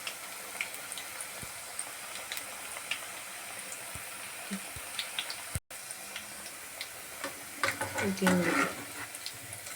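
Onion pakoda batter frying in hot oil, heavy on onion with little gram flour: a continuous crackling sizzle with scattered ticks and pops, growing busier toward the end.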